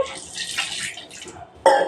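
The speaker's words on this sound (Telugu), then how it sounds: "కొంచెం నీళ్ళు కడిగి ఇట్లా పోసేద్దాం" Water poured to rinse soaked dosa batter ingredients, a sudden splashing gush near the end after a stretch of quiet kitchen noise.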